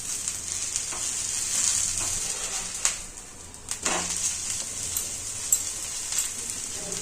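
Multigrain pesarattu batter topped with ginger, green chili and onion frying on a hot pan, a steady bright sizzle throughout with a few soft taps and scrapes, close and without talk.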